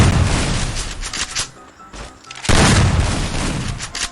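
Loud, dense bursts of gunfire and booming impacts in the Free Fire battle-royale video game, with a brief lull in the middle before the shooting resumes at full intensity.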